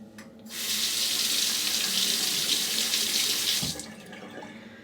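Water from a sink faucet runs steadily over a razor blade for about three seconds, a close, bright hiss that starts abruptly and cuts off.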